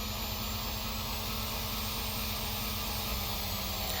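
Steady turbocharged car engine drone from The Long Drive, a heavier in-game car, holding a constant low hum with a faint high whine above it, loud and continuous with no talk.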